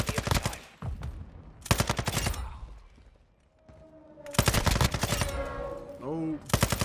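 The Sakin MG38 machine gun in the game Modern Warfare 2 fires in loud, rapid bursts, four of them separated by short pauses, with a brief voice in a quieter gap.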